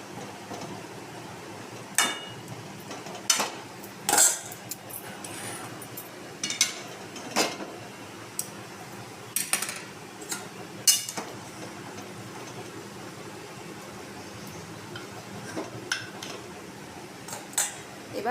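Mutton being stirred in a cooking pot, with a utensil clinking and scraping against the metal in irregular bursts, close and fairly quiet, with no voices.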